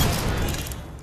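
A brief burst of gunfire in the shooter game Apex Legends: a dense, booming rattle of shots, loud and close, fading slightly over about a second.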